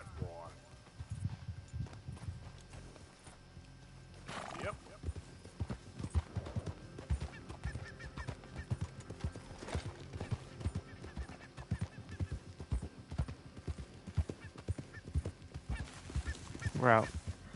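A horse gallops in Red Dead Redemption 2, its hooves clip-clopping in a steady fast rhythm with a few neighs breaking through, while voices talk over the action.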